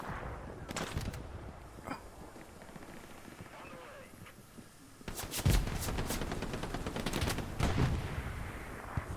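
Artillery fire in a video game, loud rapid bursts of booms and shots arriving in a dense cluster after a quieter stretch, with a voice talking over parts of it.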